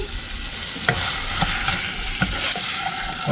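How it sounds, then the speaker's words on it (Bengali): Vegetable curry with spices and salt is stirred and sautéed in a pan, a loud continuous sizzle broken by repeated scraping taps of the spoon at irregular intervals. "এটার আমি একটু কষাই নেবো আগে এই মশলা দিয়েই"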